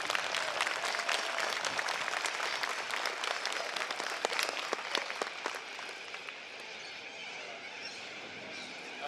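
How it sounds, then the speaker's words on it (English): Audience applause at a community unity event in Gympie, a dense steady clapping from a crowd that holds strong and then eases slightly toward the end, with no talking over it. "So big round of applause for Jason"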